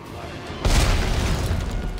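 A sniper rifle fires in the Dead Space 3 video game, a single sudden heavy boom with a decaying rumbling tail that lingers for over a second.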